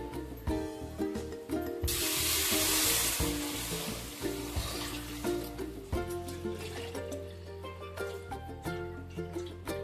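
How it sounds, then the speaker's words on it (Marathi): Cooked dal water tipped into hot oil for katachi amti bursts into a loud, broad sizzle that swells for a few seconds, then settles into steady frying crackle alongside stirring clatter. "आता आपण याच्यामध्ये जे डाळ शिजत घातलेली आणि त्याचं पाणी जे काढलेलं ते आता आपण याच्यामध्ये टाकून घेणार आहोत"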